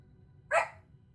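Single short puppy bark inside a house, a sharp bright yelp rising out of quiet low room noise, moderately close, alone with no talk.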